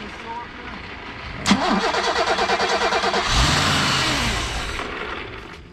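A 1987 BMW 528e running on bad gas: a sharp click, then a rapid rhythmic starter crank that catches into a rough, revving idle, close and loud, with voices talking over it.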